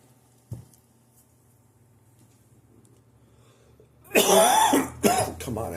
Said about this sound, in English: Just suddenly I'm coughing fit.